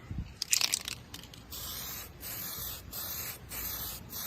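Short bursts of aerosol spray paint being applied to a Traxxas X-Maxx RC car body, several brief hissing passes at close range.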